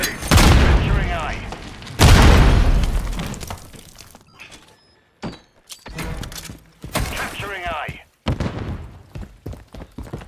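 Grenade blasts in the shooter game Modern Warfare 3, two loud, close booms with shattering debris, each decaying over a couple of seconds, followed by scattered gunfire and a third burst, with game voices calling out.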